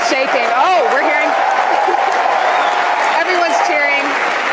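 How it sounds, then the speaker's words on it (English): A crowd in SpaceX launch control cheers and applauds, a steady loud roar of clapping and shouting with voices rising over it. "Everyone's cheering."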